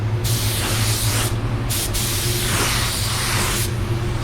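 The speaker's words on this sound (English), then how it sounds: "I sprayed down here, but I just tilted the gun a little bit this way to get that fading effect" Paint spray gun hissing in a steady, loud, continuous blast close by, with brief dips where the trigger eases off.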